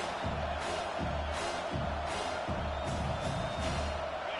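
A home stadium crowd in a football video game roars steadily throughout, a dense continuous wall of cheering noise with rhythmic pulses, no clear voices standing out.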